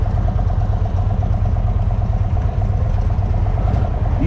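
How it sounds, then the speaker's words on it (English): A 2023 Indian Sport Chief 116 motorcycle idles at a stop with a steady, loud low rumble and a faint mechanical clatter, close by with no talking. "It rumbles when you're at a stop,"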